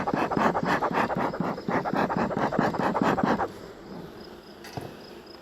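Honeybees buzz in a steady, pulsing drone while a beekeeper smokes them off the edge of a hive box. The hum is loud and close for about three seconds, then drops to a faint background.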